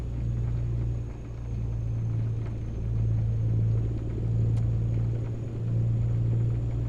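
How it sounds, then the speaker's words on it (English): A truck engine with open exhaust pipes gives a deep, steady rumbling drone with slow swells in loudness, close and continuous, with no voices over it. "Sounds like the engine's about to blow up or something."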